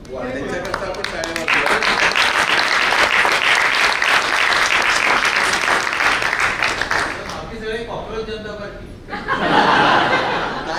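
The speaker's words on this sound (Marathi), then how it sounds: "त्यांच्याकरता आपण टाळ्या वाजवूया" Loud, dense applause from a book lovers' gathering honoring the organisers, sustained for several seconds with chuckles and laughter mixed in, dipping briefly before a final burst of clapping.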